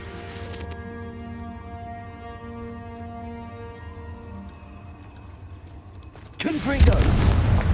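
A Confringo blasting spell in the Hogwarts Legacy video game detonates near the end with a loud, sudden explosion and rumbling roar, following several seconds of humming ambient game sound.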